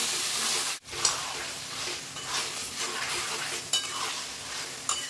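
Mutton stirred into oil-released fried spice paste in a pan for Bengali mutton curry, a steady sizzle with scraping stir strokes and a brief pause early on.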